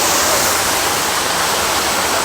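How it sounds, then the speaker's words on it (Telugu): Mehebooba waterfall in Nirmal pours down from above in a dense, loud, unbroken rush of falling water, close and steady for the whole stretch. "పైనుంచి వాటర్ వస్తున్నాయి"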